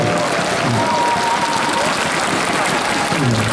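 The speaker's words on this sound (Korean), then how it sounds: "박수 치시고요." A large audience at the opening of the Wando International Seaweed Expo claps continuously, a dense, even wash of applause throughout, with a faint voice underneath.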